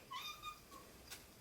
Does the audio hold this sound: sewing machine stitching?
no